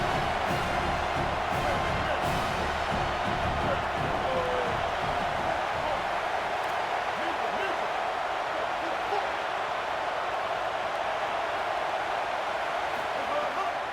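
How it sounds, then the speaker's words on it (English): Home crowd at a college football game, Alabama vs Mississippi State, roaring steadily and loudly on a third-down play, a dense wash of cheering and noise that runs throughout beneath commentary. "Here comes his home crowd as the defense tries to get off the field on third down."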